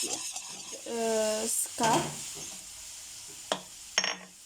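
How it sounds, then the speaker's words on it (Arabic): Cookie batter of egg yolks and sugar being mixed, with a sustained whirring mixer tone, scraping and clinking against the bowl, and brief bursts of mixing noise heard alone. "و ابري غنخلط هادشي مزيان حتى يتخلط ليا مزيان"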